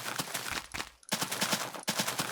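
Repeated blasts of TNT explosions in the video game Minecraft, a dense burst of loud booms in close rapid succession with one brief gap, no talking over them.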